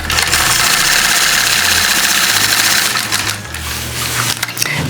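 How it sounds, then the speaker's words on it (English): A sewing machine runs steadily at speed, stitching curves along a Sway quilting ruler with a loud mechanical whir that slows briefly near the end and then resumes. "I'm going to stitch over here until I'm about a 1/2 inch away from that previous stitching."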